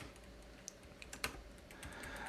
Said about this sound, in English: So I switched to this flimsy Raspberry Pi keyboard, which is a lot more quiet